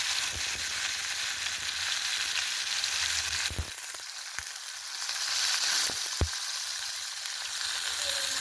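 Mustard seeds and cumin crackle and sizzle steadily in hot oil, a dense close frying hiss with occasional sharper pops, no voices.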